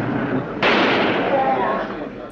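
A single sharp gunshot fired at a man during a live television broadcast, one loud crack followed by a ringing, noisy decay, with voices heard both before and after it.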